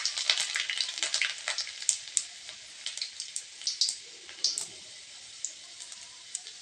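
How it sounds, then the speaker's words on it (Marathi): Cut garlic cloves frying in hot oil for a ridge gourd dish, a bright crackling sizzle with rapid spitting pops, busiest at first and thinning out toward the end. "लसण व्यवस्थित लाल होईपर्यंत ते तळून घ्यायचंय"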